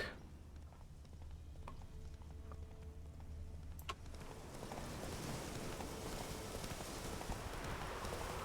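Horse hooves clip-clopping while riding in The Witcher 3, a steady soft rhythmic beat over low ambient noise that gives way to a broader wash of outdoor sound.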